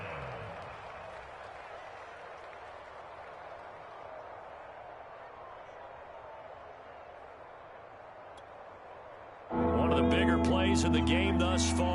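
Stadium crowd at an American football game roars in a steady broad wash building toward a big third down during the two-minute warning, with a louder burst near the end and a commentator's voice over the top.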